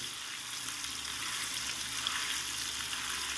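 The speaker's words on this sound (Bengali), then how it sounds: "সুন্দর করে নেড়ে চেড়ে আলুটাকে ভেজে নিতে হবে" Potatoes seasoned with salt and turmeric fry in a pan, giving a steady, close, moderately loud sizzle with a faint stirring scrape underneath and no voices.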